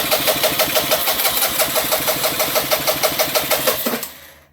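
A Vespa scooter engine cranks repeatedly without firing, a rapid rhythmic chugging of the starter at close range that stops abruptly, after carburetor spray failed to get it running.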